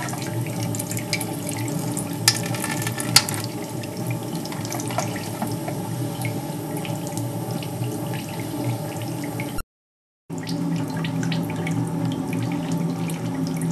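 Cooling water runs steadily through a gin distillation still, a continuous tap-like flow with no speech and a brief dropout near the end.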